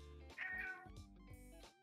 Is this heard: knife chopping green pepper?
no